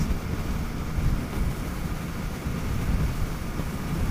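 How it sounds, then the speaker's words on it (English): A strong gust buffets a motorcycle on a Scottish winter coastal road, making a loud, rumbling wind roar across the helmet microphone that swells and dips continuously with no talk. "I would say that's about a 40-mile-per-hour gust or more right there"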